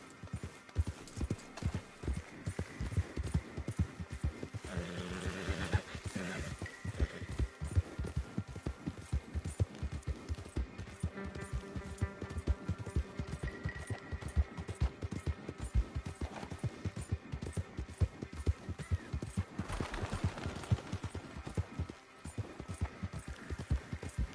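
A horse gallops in the Red Dead Redemption 2 video game, steady rapid hoofbeats drumming close and loud for the whole stretch, with an occasional snort or whinny in the mix.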